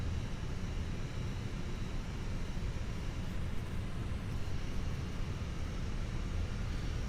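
Jet engines on a Fenix A320 in MSFS2024 spool up for takeoff at London Luton, a steady, dense low roar holding at constant loudness throughout.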